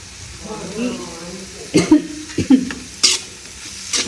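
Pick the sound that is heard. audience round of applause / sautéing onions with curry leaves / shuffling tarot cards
sautéing onions with curry leaves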